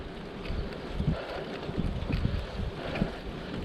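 Wind buffets a chest-mounted GoPro on a cold, blustery bike ride through Playa del Rey, Los Angeles, giving a continuous low rumble with irregular gusty swells and no speech.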